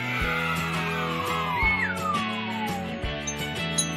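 A cat meows in a long, drawn-out call with a falling pitch, loud and close, set over a bouncy children's music track that plays throughout.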